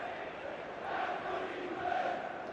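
Broad, steady crowd murmur fills a packed Anfield during the Liverpool vs Everton Premier League football match, with a swelling roar building midway and again near the end.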